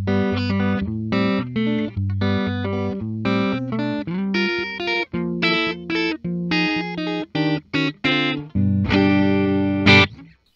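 A Gibson Custom Shop '76 Les Paul Deluxe electric guitar played on its neck pickup, rendered in a 2022 wine red finish, rings out alone in a steady run of warm chords and riffs with a slight effected sheen, ending on a louder strummed chord.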